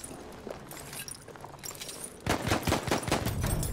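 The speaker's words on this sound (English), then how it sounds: "It's a shotgun! It's a shotgun!" Shotgun gunfire in the video game Battlefield 1: quieter game noise at first, then from midway a loud, dense burst of repeated blasts and clatter that carries on to the end.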